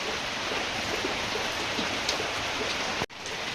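Steady rain pours down nearby, a dense, even hiss of drops on surfaces that continues without letup, broken only by a momentary dip near the end.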